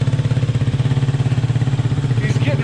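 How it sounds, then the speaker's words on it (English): A Suzuki DRZ motorcycle being ridden hard gives a close, steady, rapid thumping engine pulse that drives without a break through a brief burst. "He's getting rowdy on the DRZ."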